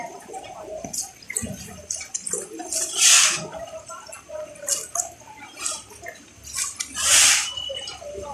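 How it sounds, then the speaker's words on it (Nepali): Floodwater from a stream rushes along a street in Kathmandu toward houses after rain. Uneven gushing and gurgling comes in louder surges about every few seconds, with no talking. "ल हेर्नुहोस् यहाँ घरतिर खोला बगेको।"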